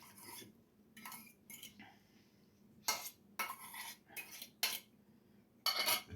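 Eggs being mixed into honey and melted butter in a bowl, heard as a quiet series of clinking scrapes and short bursts of utensil against bowl, separated by pauses.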